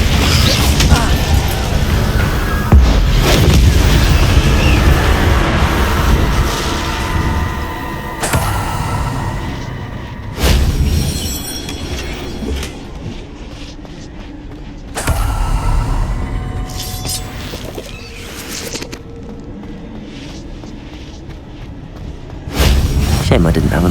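Magical spells cast in Hogwarts Legacy, heard as a run of loud whooshing bursts and booming impacts with creaks and clatter, several sharp onsets spaced a few seconds apart, with a voice calling out over the action.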